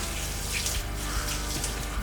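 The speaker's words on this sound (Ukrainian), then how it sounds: "вода собі зразу по рівчику от стікає все в один канал" Water trickling steadily along a channel in the newly concreted floor of a sewer manhole, a continuous close flowing wash that holds at one even level from start to finish.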